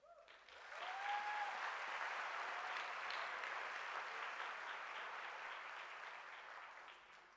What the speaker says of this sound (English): we want to applaud you